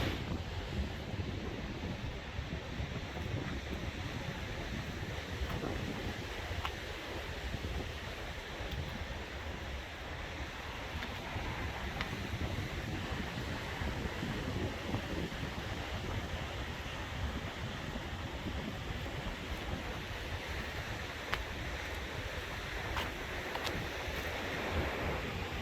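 Rough sea waves break continuously on Redcar beach, a dense, loud roar of surf mixed with heavy wind buffeting the microphone, with no voices.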